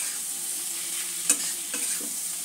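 Poppy seeds being stirred into papaya frying in a pan for a vegetarian dish, a steady soft sizzle with a few brief spoon scrapes standing out, close and alone.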